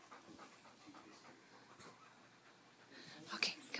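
A poodle pants in quick, soft, rhythmic breaths close by, faint overall with a few snorty wheezes near the end.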